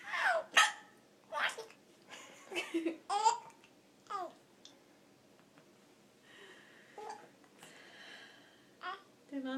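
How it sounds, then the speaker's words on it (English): A young child hiccups several times in short, sharp bursts among babbling, laughter and adult talk. The sounds come close to the listener in a quiet room. "Did Mommy give you her hiccups?"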